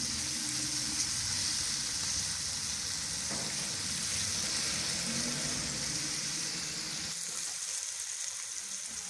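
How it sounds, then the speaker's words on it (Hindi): Ground spices sizzling and frying steadily in hot oil in a pan while cooking Indian dal palak, a continuous close crackling hiss with no voices. "मसाले को अच्छी तरह से भून लेंगे जब तक कि ऑयल ना छोड़ दें"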